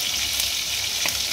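Pieces of aar fish fry in a pan of hot oil with a continuous loud sizzle, broken by a couple of sharp spatter pops.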